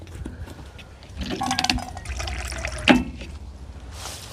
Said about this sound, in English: Zinger, let's get you some water. Let's get you some water, girl. You thirsty?